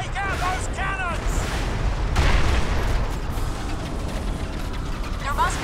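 Heavy cannon fire in the Crysis video game: booming artillery blasts and rumbling explosions fill the scene loudly and continuously, with a voice speaking briefly over the start and end.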